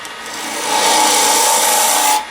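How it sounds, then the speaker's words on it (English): Wooden box lid being hollowed on a lathe with a detail gouge: a continuous loud rasping scrape that swells after a moment, holds steady, then eases off at the end. "start the hollowing process of the lid"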